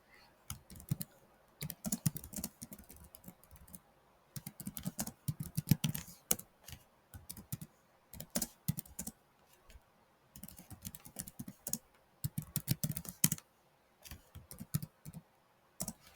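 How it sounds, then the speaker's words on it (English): Fingers type steadily on a computer keyboard, with quick clusters of close, light key clicks broken by short pauses, and a few soft voice sounds underneath. "So follow what I'm going to type right here."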